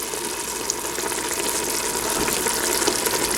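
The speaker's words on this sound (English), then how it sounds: "we're going to add a can of Italian style fire roasted tomatoes, juice and all" A can of Italian style fire roasted tomatoes, juice and all, poured into a pot of hamburger soup, giving a steady close wet gushing and sizzling wash with no talk.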